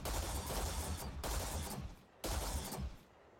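Video game gunfire aimed at an animal, three loud sustained bursts of rapid shots separated by short breaks, close and dense with heavy low rumble.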